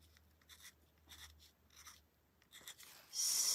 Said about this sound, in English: embellishing my paintings with some of these pen and ink type of things